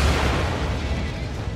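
A bomb goes off in the motorbike game Trials Evolution, a loud, dense roaring blast that fills the whole moment and slowly thins without fading out.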